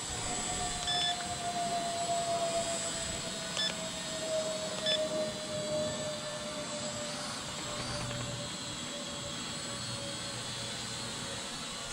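A cheap RC drone flies nearby with a thin, steady high whine that slowly drifts in pitch, with a few faint beeps over quiet outdoor background.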